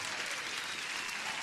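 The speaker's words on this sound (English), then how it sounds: "So there's the applause for Sanjay." Applause sound effect played during a live day-trading stream, a steady wash of clapping that holds evenly and fairly loud for the whole moment with no voices over it.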